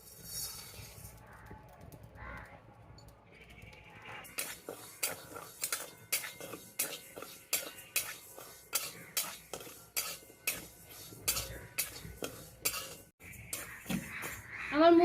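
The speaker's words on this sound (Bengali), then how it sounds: "আমি মুগ ডালটা ভেজে নেব।" A utensil scrapes and knocks rhythmically against a pan while moong dal is dry-roasted in a kitchen, regular close strokes after a quiet start.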